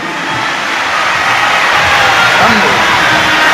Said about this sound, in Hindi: जोरदार गर्जना होना चाहिए तालियों की